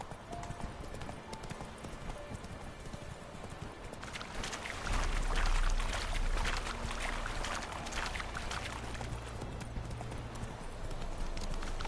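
The horse Roach trots in The Witcher 3, a steady clip-clop of hooves that grows louder and heavier midway, set against a busy game ambience of rustling and low rumble.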